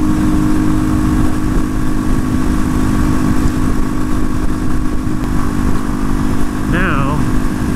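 A Janus Phoenix 250 motorcycle cruises along the Columbia River Gorge, its engine droning steadily and close with rushing wind noise, while a brief voice cuts in near the end.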